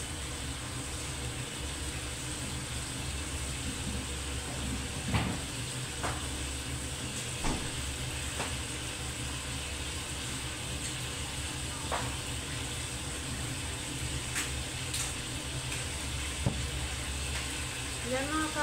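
Tomato sauce frying and being stirred in a pan, a steady sizzle running throughout with occasional scraping clicks from the stirring, fairly close.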